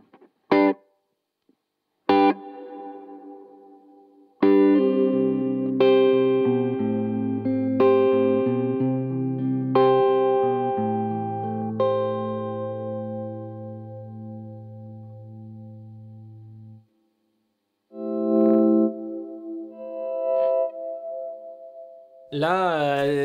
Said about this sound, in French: Reverb longue, modulé légèrement,